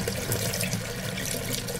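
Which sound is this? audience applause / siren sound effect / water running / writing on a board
water running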